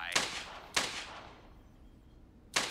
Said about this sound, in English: I hacked into my dad's CCPD account and went through the footage of Eddie shooting those cops